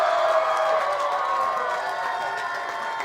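A dense crowd cheers and shouts steadily at the podium presentation after a Polaris Crandon World Championship off-road race, loud and continuous without a break.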